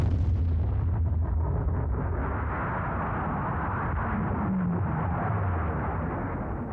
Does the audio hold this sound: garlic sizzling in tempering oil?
no